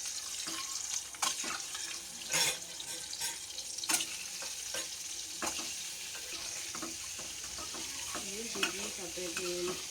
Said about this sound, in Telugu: ఉల్లిపాయలు కూడా మగ్గుతున్నాయండి.